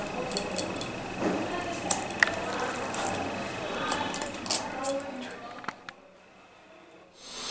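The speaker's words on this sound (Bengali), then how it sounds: "পটলের মশলাটা এবার ভরছি। আমি পটলের মধ্যে ভরে দিচ্ছি সব।" Spice paste is pressed by hand into pointed gourds (potol), giving soft, wet squishes and small sticky clicks close to the mic, quiet and irregular, fading to near silence at the end.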